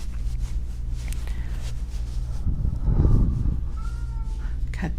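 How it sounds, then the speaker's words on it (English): A cat meows nearby over a low steady hum, giving a couple of drawn-out, wavering cries around the middle of the stretch. "Cat, please. Why are you so noisy?"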